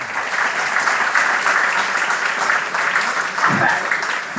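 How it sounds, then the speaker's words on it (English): An audience claps steadily throughout, a sustained, moderately loud round of applause with no break. "So I think you can clap for me too."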